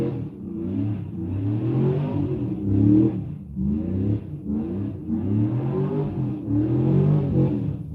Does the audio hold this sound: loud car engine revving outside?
yes